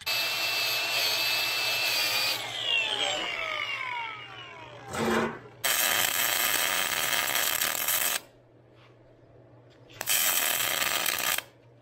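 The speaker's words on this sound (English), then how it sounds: "So we're just gonna weld it solid and hope we never have to work on this thing ever again." A welder fuses a stripped nut onto its bolt solid, giving bursts of harsh, crackling buzz in three long runs separated by short pauses and a brief clank, close and loud.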